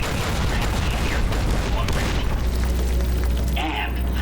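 A Securitron's M235 missile launcher fires in Fallout: New Vegas, heavy booming blasts and rumbling explosions rolling continuously across a few seconds of loud combat noise.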